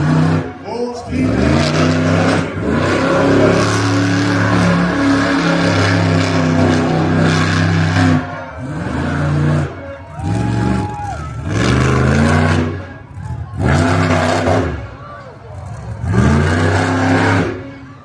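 Monster truck engines rev hard in repeated roaring bursts with pauses between them, booming through an arena at a monster truck show as a crowd and an announcer carry on underneath.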